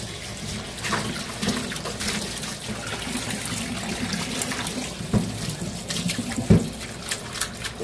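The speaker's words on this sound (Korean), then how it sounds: "고사리도 좀 씻어서 좀 담궈 놓을 거예요." Bracken (gosari) is rinsed under a running kitchen tap: a steady trickle of water over the fern stems with soft splashing and a few sharper knocks near the end, close and moderately quiet.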